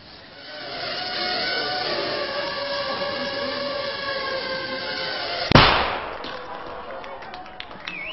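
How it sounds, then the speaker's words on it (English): A small shaped explosive charge on a killer drone detonates in one sharp, close bang that decays quickly, preceded by a steady whirring drone hum. "That little bang is enough to penetrate the skull and destroy the contents."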